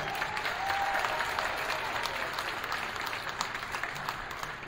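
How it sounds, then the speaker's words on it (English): Steady crowd applause fills a high school gym at a girls' varsity basketball game, Bellows Free Academy against St. Johnsbury Academy, honoring the cheerleading squad; dense clapping holds evenly throughout with a brief whistle early on. "One more big round of applause"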